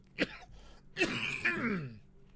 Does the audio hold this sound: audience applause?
no